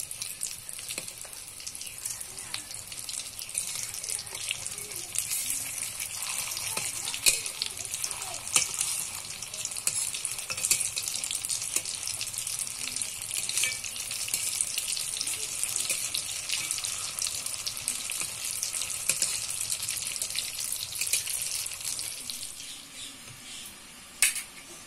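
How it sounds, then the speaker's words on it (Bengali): Soybean koftas fry in hot oil in a wok, a constant bubbling hiss with crackling spits and a few utensil scrapes, steady until it cuts off near the end. "এবার এই কোপ্তাগুলো ভেজে নেব"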